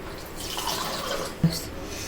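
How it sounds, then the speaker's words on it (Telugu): Water poured into a pot on a stove to start sugar syrup, heard as a soft, close trickling pour ending in a single louder plop or clunk, with no talking. "వాటర్ పోసేస్తున్నాను."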